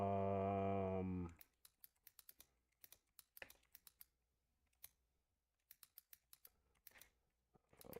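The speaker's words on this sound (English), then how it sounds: "let me finish typing out these tags" Typing on a computer keyboard, quick irregular clusters of close key clicks after a loud tonal sound fades out.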